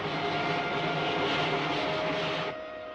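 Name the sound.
airplane engine in flight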